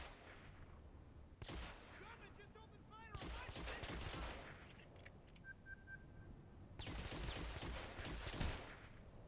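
Gunfire in the video game Hitman Absolution comes in several loud bursts of rapid shots separated by quieter gaps, with a voice talking at times between them.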